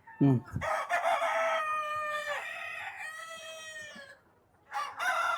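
A Sonali breed rooster crows loudly and at length, preceded by a few short clucks from chickens, with another crow starting at the end.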